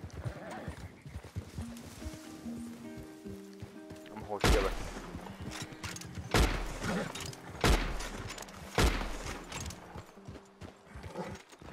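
Gunfire in Red Dead Redemption 2, several sharp loud shots spaced a second or two apart over horse hooves, whinnying and game music, with a player talking in between.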